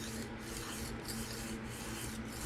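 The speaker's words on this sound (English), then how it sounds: "It's going to take quite a bit to raise a burr on this 600 Atoma" A knife is stroked across a 600-grit Atoma diamond plate, about four smooth, evenly spaced rasping passes, close and quiet.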